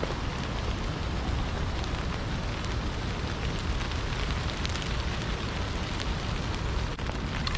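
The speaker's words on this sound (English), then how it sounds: "It's currently hailing or sleet" Hail or sleet falls steadily outdoors at a forested backpacking camp near Pictured Rocks, a dense, even hiss of pellets striking surfaces with no pauses and no voices.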